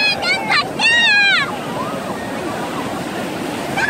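Steady rushing wash of surf on Samcheok Beach, with a person's voice rising and falling over it in the first second and a half.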